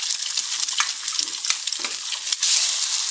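Egg added to potatoes frying in a pan with salt and turmeric gives a loud, steady, crackling sizzle that runs throughout, with brief spatter bursts and no talking.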